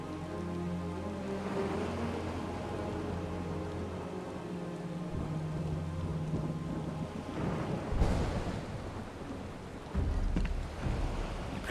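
Heavy rain and rumbling thunder in the video game Final Fantasy VII Rebirth, a continuous downpour beneath music, with a sharp thunder crack near the end and another swell soon after.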